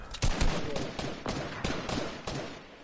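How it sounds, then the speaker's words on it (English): A big gun fires in the video game Fortnite, heavy booming shots at a steady, spaced rhythm, loud and close with faint game noise beneath. "I'm smacking him with my big gun."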